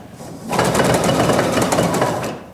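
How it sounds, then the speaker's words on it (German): A sewing machine stitches a straight seam on dress fabric in one loud, rapid burst of even needle strokes lasting about two seconds, close up and alone. "also das heißt gerader Stich und erstmal runter zur Ecke nähen"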